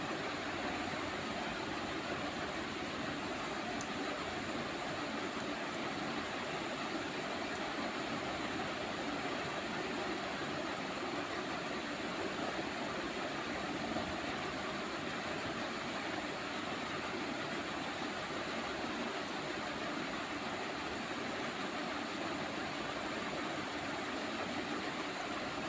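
A sewing machine stitches the corner of a kurti with a steady, continuous mechanical whir and a fine rapid needle rhythm that runs unbroken and close throughout, with no voices.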